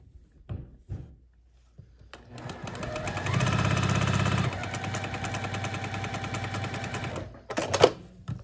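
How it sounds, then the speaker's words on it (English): A sewing machine stitches pieced quilt fabric, a strip and a triangle for a Churn Dash block, in one steady mechanical run of several seconds after a few light handling clicks, close and clear with no talking. "I'm gonna sew right here down this portion"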